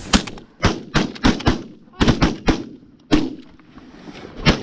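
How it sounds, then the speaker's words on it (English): Shotguns fire at geese during an early-season goose hunt in Minnesota, with about ten sharp, loud blasts in quick irregular bursts and scattered hunters' voices between the shots. "We're gonna have to shoot up the back, BJ."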